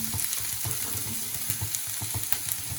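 Paneer cubes sizzle and fry in a hot pan for paneer manchurian, a steady close crackle with faint stirring scrapes and no voices.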